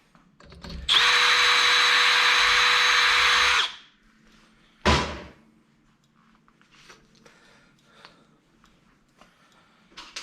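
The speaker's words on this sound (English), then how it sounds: "so this one drills a little harder" A power drill bores into thick steel while working on a Sears Suburban garden tractor, with a loud, steady whine of about three seconds, a sharp bang, then quiet clinks and handling noises.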